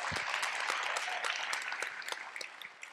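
An audience at a justice innovation pitch competition gives entrepreneurs a round of applause, fairly quiet clapping with scattered distinct claps that thins out toward the end.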